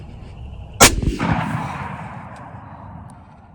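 A single loud rifle shot on a deer hunt cracks sharply about a second in, then rolls away in a long fading outdoor echo over quiet background.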